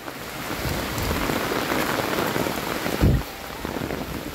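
Heavy rain pours down steadily and loudly, a dense close hiss of drops drumming on surfaces, with a brief louder splash or rumble near the end.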